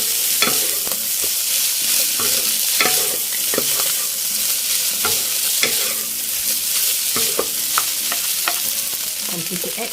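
Kampung fried rice with fish sauce being stirred in a hot pan, continuous frying sizzle with repeated scraping clacks of the spatula at an irregular rhythm, close and alone.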